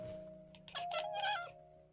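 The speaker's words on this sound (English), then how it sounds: "where did the black cat go? Oh, there he is." A black cat in the Minecraft video game gives a soft meow over a faint steady background tone, a single drawn-out cry in the middle of the moment.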